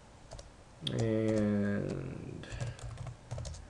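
Computer keyboard typing while editing site content, a quick scatter of faint clicks around a brief spoken word, close and soft.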